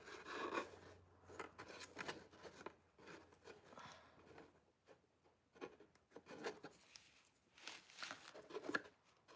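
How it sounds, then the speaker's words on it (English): Scissors snip and slide through paper, cutting out shapes for DIY Christmas decorations, with quiet, close, irregular cutting strokes and rustling handling sounds throughout. "so I cut the first one, and then I just need a little similar corner, and I cut a similar shape"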